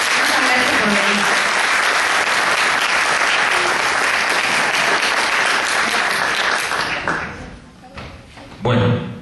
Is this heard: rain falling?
no